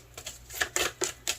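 Tarot cards being shuffled by hand, heard as a handful of short, crisp riffling bursts at an irregular rhythm, close and fairly quiet.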